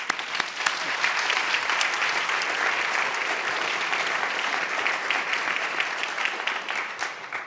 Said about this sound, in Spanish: vamos a darle a nuestros grandes amigos un gran aplauso